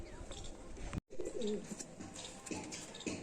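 Giribaz pigeons coo softly in a loft, with a few low, rolling calls that are faint and close, and a brief dropout in the middle.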